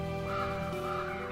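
Ravens cawing, a single sustained harsh call lasting just over a second, fairly faint and set against a steady hum of background noise.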